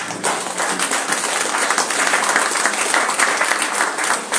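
A church congregation applauding loudly, dense sustained clapping from many hands filling the space for several seconds.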